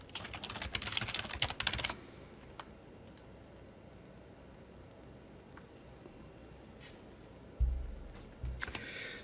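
Password being typed on a computer keyboard, a quick burst of dense key clicks for about two seconds, then a few scattered taps and soft knocks in a quiet room.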